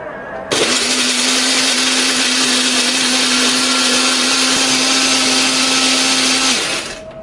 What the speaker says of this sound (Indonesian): Ini akan aku haluskan bumbunya pakai sedikit air supaya lebih cepat.